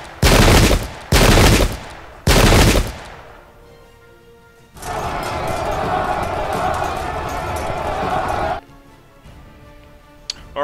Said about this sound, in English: we're getting a chance to go ahead and fire our volleys off, and so are they